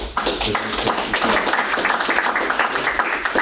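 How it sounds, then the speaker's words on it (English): Applause rings out at a school district board meeting for the custodial services team, a steady dense patter of many hands clapping at close range for several seconds. "we have the best team in the business, and round of applause"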